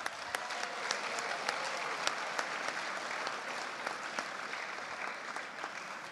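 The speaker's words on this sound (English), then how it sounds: "let's give a big, huge round of applause again to your extended fan base" Sustained applause from an audience at a high school varsity sports celebration, steady dense clapping throughout with a few sharper claps standing out, no talking.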